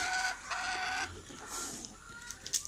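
Several chickens cluck and squawk nearby in short, uneven bursts, with a few higher calls breaking through near the end, on a rural farm.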